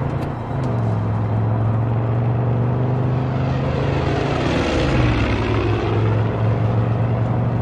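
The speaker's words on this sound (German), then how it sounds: "Da ist ein Flugzeug hinter mir." A propeller airplane drones through the air in the video game Far Cry 5, a loud, steady engine hum whose pitch shifts as it passes close by, with no talking.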